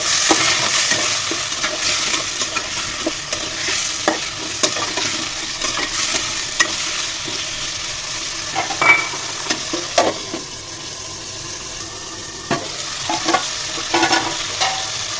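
Tomatoes frying in hot oil while being stirred, a loud, continuous sizzle broken by repeated scraping strokes of a spatula against the pan, close and without talking.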